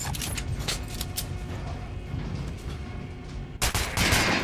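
Gunfire in the first-person shooter Metro Last Light, a dense, loud continuous burst of shots, then a sharper, brighter blast near the end, with no talking.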